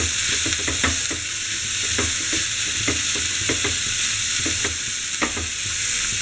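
Chopped cabbage and carrot for a veg momo filling being stir-fried in a pan, a loud steady sizzle with repeated scrapes of the spoon, close and continuous with no voices.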